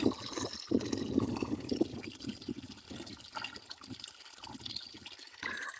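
Water runs steadily from a clean public fountain, a continuous splashing flow that rises and dips slightly in strength, close by with no voices.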